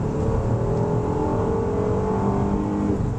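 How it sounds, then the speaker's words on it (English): Inside a 2014 Ford Explorer Sport with a 3.5-litre V6 EcoBoost 4x4, the engine drones steadily under acceleration, a smooth continuous hum heard from the cabin with no talk. "let's just listen to the engine."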